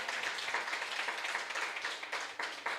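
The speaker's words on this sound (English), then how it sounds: "Give her another round of applause" A room full of people at a children's coding camp commencement ceremony applauds steadily, a dense, even wash of clapping that carries on throughout without any speech over it.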